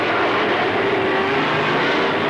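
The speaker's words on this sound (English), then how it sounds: "Big pack of cars thunders down the front straight edge" Pack of dirt track race cars roaring down the front straight at Lernerville, a dense continuous engine thunder held at steady loudness throughout.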